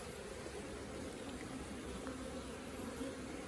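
Honeybees hum around open hives during the ivy flow, a faint, steady, low buzz that stays even for the whole moment with no voices.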